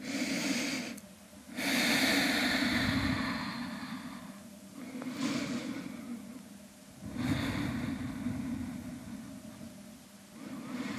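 Slow, deep breaths during a vinyasa yoga stretch, several long audible inhales and exhales rising and falling close by, with no talk.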